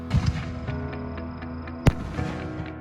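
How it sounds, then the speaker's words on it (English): A 5- or 6-inch artillery shell firework bursts once with a sharp, loud boom over a continuous background rumble, with a few softer pops around it. "to end this list of the best fireworks of 2020, we gotta end with some artillery shells"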